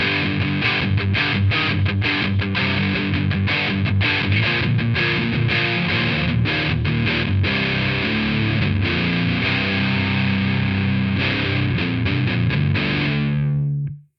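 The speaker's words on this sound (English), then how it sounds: "that's sounding like a decent distortion" Heavily distorted seven-string guitar played through a Joyo Boogie Master distortion pedal, loud, dense chugging riffs with rapid palm-muted stops, ending on a sustained ringing chord that cuts off.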